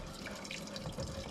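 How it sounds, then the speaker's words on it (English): Boiling water poured from a kettle into a pan of miso broth for mackerel, a steady close liquid pour with faint splashing, short and continuous with no talk. "this is already boiled, this kettle, just a bit of boiling water"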